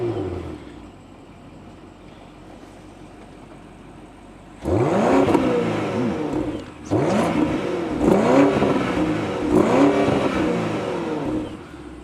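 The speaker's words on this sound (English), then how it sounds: "So BMW V8s have always had a nice, mean, throaty sound to them" A 2024 BMW X5 M60i xDrive V8 with M Sport active exhaust sits quietly, then fires up loudly and revs in several throaty, rising bursts, settling between blips, close and without any talk.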